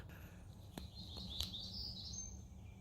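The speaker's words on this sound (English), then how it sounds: "There's black-throated gray warblers in this forest." Song of a black-throated gray warbler in a forest floodplain, a few thin high buzzy notes rising around the middle, faint and distant over steady low background rumble.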